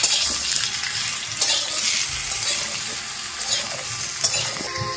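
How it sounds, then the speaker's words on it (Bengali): Hog plums are stir-fried in oil with panch phoron, giving a continuous close sizzle broken by light scraping and stirring taps. "আমড়াগুলো দিয়ে একটু নাড়াচাড়া করে নিতে হবে"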